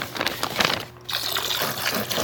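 Water poured from a hose into a planting hole around early-planted tomatoes, a steady close trickle and splash with a brief pause midway before the flow resumes.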